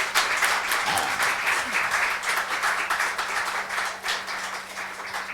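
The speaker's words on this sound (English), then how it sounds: "I think we should give her a round of applause for just writing." Audience applause at a poetry reading during a literature and art festival in Bhopal, a steady continuous wash of clapping from a crowd lasting throughout, fairly close and even in loudness.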